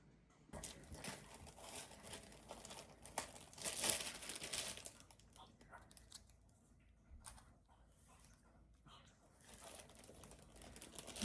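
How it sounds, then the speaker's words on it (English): Homemade burger patties being bagged up: soft plastic crinkling and rustling in uneven bursts, fairly close but quiet, with a sharper crackle partway through and quieter handling afterward. "I'm just going to bag them up now."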